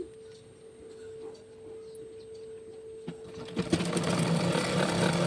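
A sewing machine stitches Punjabi dress pants, starting as a low steady hum with faint mechanical ticking and building into a louder, busier run over the last couple of seconds.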